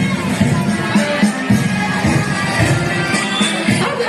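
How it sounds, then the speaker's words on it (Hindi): Loud, dense applause and crowd noise from an audience cheering performers at a cultural event, steady and continuous throughout with no gaps. "तो एक जोरदार ताली इन शानदार प्रदर्शनकर्ताओं के लिए तो बनती है"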